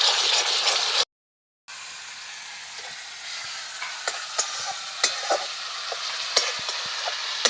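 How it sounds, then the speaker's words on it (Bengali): Masala spices fry in oil in a pan for a Bengali bata fish curry, a steady hiss and sizzle with intermittent scraping stirs and clinks, close and continuous after a brief silent gap. "মশলা থেকে যতক্ষণ না তেল ছেড়ে দিচ্ছি ততক্ষণ পর্যন্ত মশলাটাকে একটু কষিয়ে নিতে হবে।"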